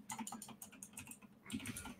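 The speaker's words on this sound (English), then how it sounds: "You can hear my keyboard click." Computer keyboard clicking under steady typing in a home podcast setup, a quick irregular patter of fairly faint keystrokes with short pauses, alone without talk.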